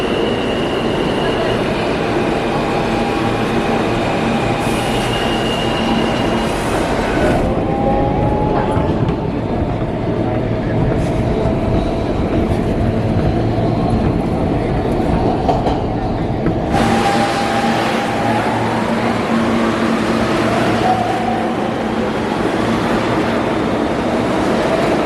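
New York City G subway train riding underground, a loud steady rumble with rattling and clickety-clack from the wheels, high squeals and whines rising and falling, and a couple of abrupt shifts in the noise along the run.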